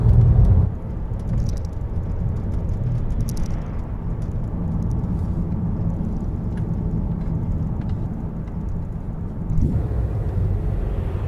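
Car interior rumble while driving the C666 road along the Moselle behind a tractor, a low, steady engine and road drone, loud at the very start, then even and continuous with a slight surge near the end.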